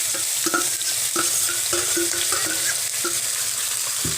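Onion, potato and beet fry in hot oil while being stirred, giving a steady close sizzle broken by repeated scraping strokes of a spoon across the pan, with no voices.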